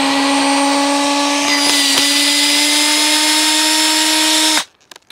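Power drill runs loud and steady at close range for about four and a half seconds as it drives with more torque, giving a continuous high whine that cuts off abruptly, followed by a few faint clicks.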